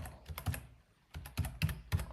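Code being typed on a computer keyboard for a Unity C# script: two bursts of quick, close keystrokes with a short pause between, no talking.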